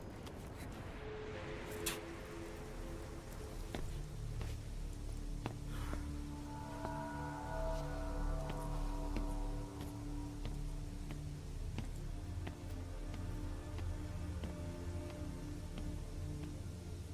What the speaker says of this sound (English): the rain noise just ends